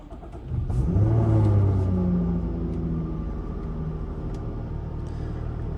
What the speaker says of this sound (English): we'll watch the flying display on the instrument panel as we start up the V6